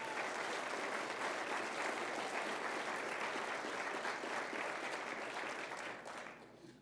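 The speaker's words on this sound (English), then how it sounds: "please give them a round of applause as well" Steady, even applause from a crowd at a city's State of the City address, filling the room continuously before tapering off at the very end.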